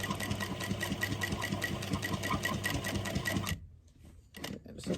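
A sewing machine runs a back stitch on a tote bag: fast, even, rhythmic stitching close by for about three and a half seconds, then it stops, leaving only faint handling noises.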